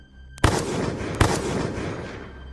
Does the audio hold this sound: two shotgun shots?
yes